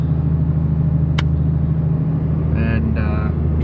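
A truck drives along a road in dense fog on the route to Neah Bay, Washington, its steady low engine rumble and road noise running continuously, with a brief higher passing sound partway through.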